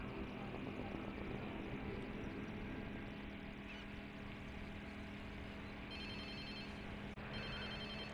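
A phone rings in the Watch Dogs 2 video game, a steady electronic ringtone repeating across the whole stretch over a constant background drone of game sound, with no talking.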